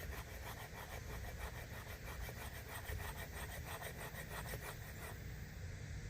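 A Cuma cleaver blade is dragged repeatedly across a scaly surface, making a steady, rhythmic rasping scrape of short strokes. The sound is faint and continuous and carries no speech.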